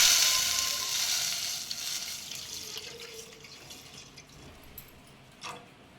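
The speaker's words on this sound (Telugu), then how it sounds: "పాల ప్యాకెట్ వేస్తాను." Packaged milk poured into a hot pan, opening with a hissing, bubbling splash that gradually fades to a soft simmer, with a small clink near the end.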